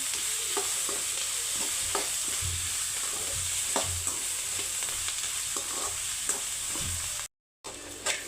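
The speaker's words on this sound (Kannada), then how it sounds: "ನೋಡಿ, ಎಲ್ಲ ಫ್ರೈ ಮಾಡ್ಕೊತಾ ಇದ್ದೀನಿ" Onions and sprouted moong beans fry in a pan, a steady close sizzle with recurring spoon scrapes and stirs, broken by a brief dropout near the end.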